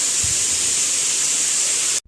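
A sharp, continuous hiss of steam escaping from a pressure cooker cooking dal, loud and steady for about two seconds before cutting off abruptly.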